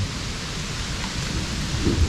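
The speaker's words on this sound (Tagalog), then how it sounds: "Yan ang ulan." Steady heavy rain pours down around a makeshift tarp shelter during a storm, with a dense continuous roar and low thunder rumbling underneath, no voices.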